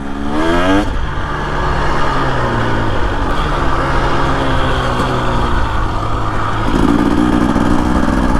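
A Husqvarna TE 250 dirt bike with an FMF exhaust lugging at low revs, its loud, close, steady engine note dipping slowly, then rising sharply in a throttle blip near the end.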